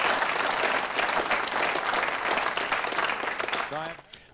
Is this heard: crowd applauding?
yes